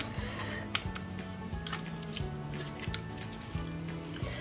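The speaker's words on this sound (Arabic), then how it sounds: "الحين نغسله بالماء البارد" Cold water runs steadily over cooked instant noodles in a sink for a Korean noodle ice challenge, a continuous splashing rinse with soft squishing of the wet noodles, close and alone.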